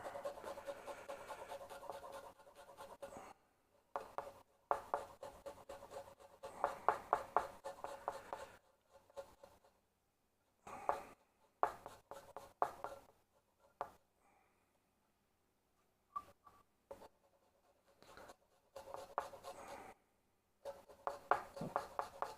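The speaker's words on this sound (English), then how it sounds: "Garlic ASMR. Microplane ASMR." Garlic being grated on a microplane, giving soft, repeated scraping strokes in short bursts with brief pauses between them, close and quiet with no talking.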